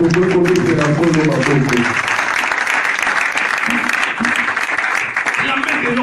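A church congregation at a Sunday service applauds loudly and continuously, dense clapping filling the whole stretch, with a voice speaking over the start of it.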